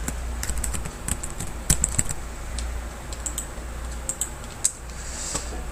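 Computer keyboard typing while data is entered into accounting software: irregular bursts of close, crisp key clicks with short pauses over a low steady hum, no voices.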